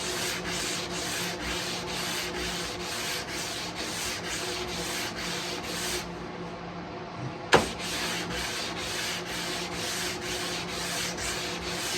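A guitar fretboard is sanded by hand with a radius block, making a close, rhythmic back-and-forth rasping that repeats evenly, stops briefly, is broken by one sharp knock, then resumes.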